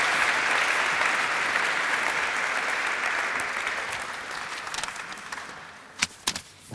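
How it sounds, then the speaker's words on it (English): Audience applause for Russell Shorto, a full, sustained wash of clapping that gradually thins and fades, ending in a few scattered, louder individual claps. "Applause for Russell Shorto."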